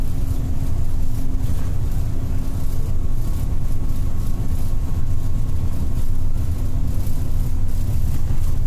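A Golden Dragon chassis bus with a Euro 3 engine and air suspension cruises along a toll road between Surabaya and Malang, giving a steady, loud, continuous low engine and road rumble heard from inside the cabin.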